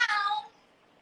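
A cat gives a single short, bright meow that fades out within half a second, heard clearly and alone.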